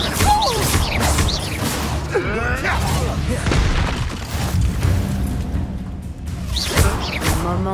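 Spell effects in the Hogwarts Legacy video game, including a Confringo fire blast, with booming impacts, whooshes and crashing bursts layered over dense game music and effects, loud throughout.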